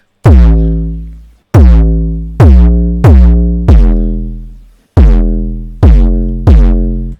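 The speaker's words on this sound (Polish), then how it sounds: "Czyli klasyczna 808," A classic 808 bass drum sounds in eight loud, booming hits with long decaying low tails, spaced unevenly and played alone with no voices.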